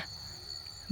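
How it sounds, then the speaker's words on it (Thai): Maeng chi ro insects chirping around a rural Thai house, a faint steady high trill under quiet background for under a second, no voices. "เสียงแมงจีรอก็ได้ยินห้องละเนี่ย"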